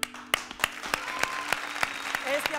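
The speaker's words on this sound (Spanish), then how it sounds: "Este aplauso es para el perro aguayo Junior, para su familia, para Rey Misterio" Rhythmic unison clapping, sharp evenly spaced claps about every third of a second, with voices talking underneath.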